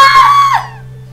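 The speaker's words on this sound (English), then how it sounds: "I hate that scream. It's so annoying." Character in the horror game Mad Father letting out a short, piercing scream that bends downward and cuts off quickly, loud and alone.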